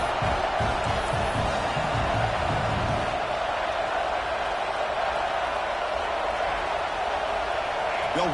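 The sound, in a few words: football stadium crowd cheering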